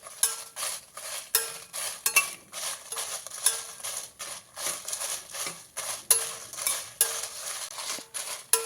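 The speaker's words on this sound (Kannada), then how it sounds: "ನೋಡಿ, ಈ ಥರ ದುಂಡಗಾಗಬೇಕು ಮೆಣಸಿನ್ಕಾಯಿ ನಾವು ಹುರಿಯುವಾಗ." Chilies are stirred and roasted in a metal pan over a low flame, with a continuous soft sizzle and frequent scraping clinks of a spatula against the pan, close up and without speech.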